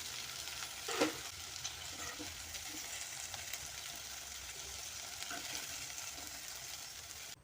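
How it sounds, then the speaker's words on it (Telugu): Sliced okra frying in an open pan with coriander leaves, a steady close sizzle with a stir scrape near the start and a few soft clinks, with no talking. "ఇప్పుడు ఇవి వేగినాయి కదా వీటిని వేరే ప్లేట్లోకి ట్రాన్స్ఫర్ చేద్దాము"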